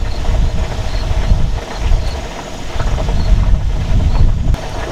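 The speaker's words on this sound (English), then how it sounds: "Just as I'm trying to finish this video, it just got very windy." Strong wind buffeting the microphone, a continuous low rumble that surges and dips over several seconds, with no voices.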